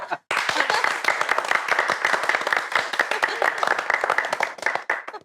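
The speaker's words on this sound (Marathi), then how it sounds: "आपण सगळे मिळून जोरदार टाळ्या वाजून आजीचं कौतुक करूयात" A group claps loudly and together at an indoor gathering in a comedy serial scene. The dense, even applause runs for about five seconds after a brief pause and tapers slightly at the end.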